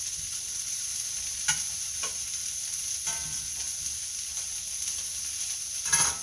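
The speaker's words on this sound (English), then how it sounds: "And you can hear that sizzling." Steady sizzling of octopus sautéing in a pan, with a few soft clinks of stirring scattered throughout.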